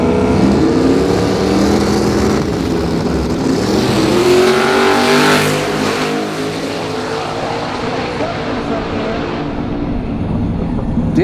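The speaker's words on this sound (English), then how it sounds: "What a drag race." Drag racing cars at a street-car event roaring down the strip, a loud continuous engine howl with sweeping pitch changes, close and dominant, without clear talk on top.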